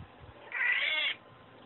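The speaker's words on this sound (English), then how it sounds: "This is my cat." A pet cat gives a single clear, drawn-out meow close by, about half a second long, in an otherwise quiet room.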